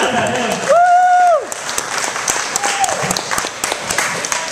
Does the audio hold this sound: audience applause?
yes